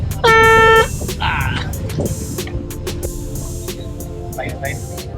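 A loud, steady boat horn blast sounds for about half a second near the start, followed by a briefer tone, over rumbling engine noise and wind.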